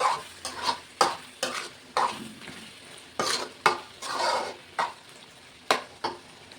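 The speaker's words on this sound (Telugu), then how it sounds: "కొబ్బరి పొడి కూడా కొంచెం ఫ్రై అవ్వాలి" Coconut powder frying in thickened chicken gravy as a spoon stirs and scrapes the pan in repeated rhythmic strokes, roughly one per second, over a soft close sizzle.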